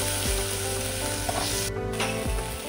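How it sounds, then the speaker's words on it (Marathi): Garlic sizzling in hot oil for a Goan/Malvani raw jackfruit vegetable, a steady close crackle with a few stirring scrapes, no voices. "आता लसूण जरा लाल होईपर्यंत परतून घ्या"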